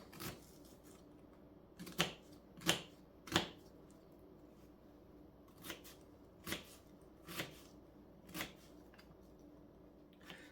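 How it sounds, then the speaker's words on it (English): A knife roughly chopping an onion for a wild game calzone: about nine sparse, crisp knocks at uneven intervals, fairly faint and close, over quiet kitchen room tone with no talking. "We're gonna put a rough chop on this onion."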